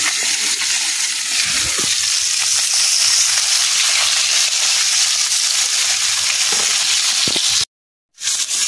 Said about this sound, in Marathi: बघा 5-5 मिनिटांनी परतून घेऊया.